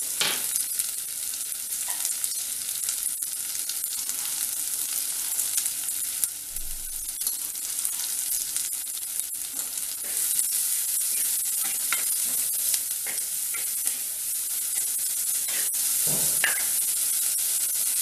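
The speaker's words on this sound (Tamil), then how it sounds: "வெங்காயம் நல்லா வதங்கட்டும்." Onions sauté in a pan for a South Indian drumstick mango sambar, with a constant close sizzle and occasional stirring scrapes and clinks and no voices.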